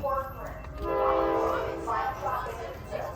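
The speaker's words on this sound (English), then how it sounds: "All right, folks, here comes Amtrak 7." Amtrak San Joaquin passenger train 716 pulls into Martinez station in California, its horn sounding loud and near in long sustained blasts over rumbling wheels.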